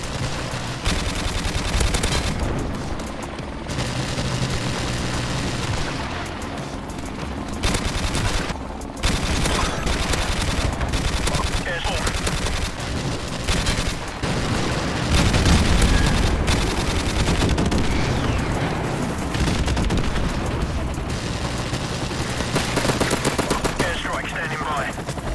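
Rapid automatic gunfire in a Modern Warfare Remastered match crackles in dense bursts and sustained volleys, loud and near, with brief pauses between strings of shots and a heavier boom near the middle, and almost no speech.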